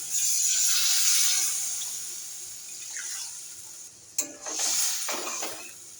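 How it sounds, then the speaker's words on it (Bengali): Water pours into cooked-down fish curry masala in a pan, making a hissing gush that fades before a sharp clink and a second brief splash near the end. "কষানো হয়ে গেছে এবারে আমি জল দেবো"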